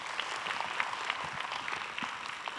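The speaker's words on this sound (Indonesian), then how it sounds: "Berikan tepuk tangan untuk teman-teman semua." Participants at a talk show during a campus festival applaud, a moderate crowd clapping with distinct individual claps popping through the steady wash.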